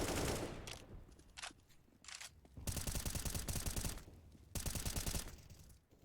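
Rapid automatic gunfire from a Counter-Strike match on the Vertigo map crackles in dense bursts, with several long sustained sprays separated by short lulls, loud and close.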